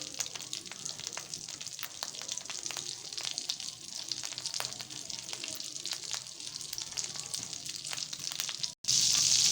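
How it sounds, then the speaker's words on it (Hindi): Butter heats and melts in a pan for a Lahori bun plaster before eggs go in, giving a steady close sizzle with fine crackling throughout and a brief drop in sound near the end. "नाज़रीन, अब इसको मक्खन को गर्म होने देंगे।"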